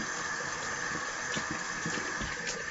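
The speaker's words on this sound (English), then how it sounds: "Cold water rinse." Cold tap water runs steadily for a rinse after shaving, a continuous close splashing hiss with no talk over it.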